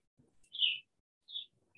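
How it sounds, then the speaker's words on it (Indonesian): A bird chirps twice in the quiet morning, two clear, high tweets spaced about a second apart against near silence. "kami boleh mendengar suara kicauan burung"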